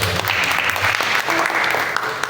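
A church congregation at a Sunday afternoon worship service breaks into applause, a loud burst of many hands clapping close by, steady for a couple of seconds.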